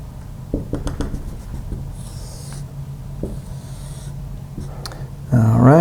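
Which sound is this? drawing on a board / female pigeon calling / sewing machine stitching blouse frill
drawing on a board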